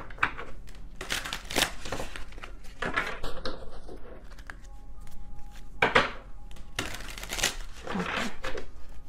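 Tarot cards are shuffled by hand at close range in repeated papery riffling bursts with short pauses between them, over a faint steady hum.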